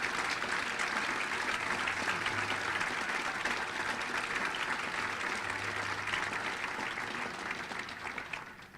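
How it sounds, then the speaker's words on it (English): Luncheon audience applauding home builders, a dense, steady wash of clapping hands that holds loud for most of the stretch before easing off near the end. "Let's give them a big round of applause."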